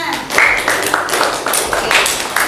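A classroom of students claps together in a lesson on vibrations, a quick burst of close, crisp hand claps with uneven rhythm lasting a couple of seconds.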